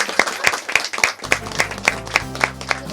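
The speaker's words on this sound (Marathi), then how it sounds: "माझ्यासाठी तुम्हा सगळ्यांसाठी एकदा प्लीज टाळ्या वाजवा ना प्लीज" An audience claps in a steady, rhythmic beat, about eleven even claps in a row, with a low musical drone running underneath.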